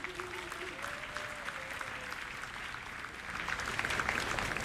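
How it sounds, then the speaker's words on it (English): Crowd applause at the 2024 CARIFTA Aquatics Championships opening ceremony, steady distant clapping from a large audience that swells slightly toward the end, with a faint voice or tone underneath early on. "Let's give him a round of applause."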